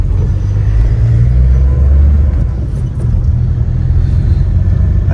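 A car engine runs with a steady, loud low rumble, heard close up as the vehicle idles and moves off, with no talk.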